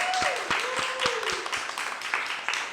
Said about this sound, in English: giving them all a round of applause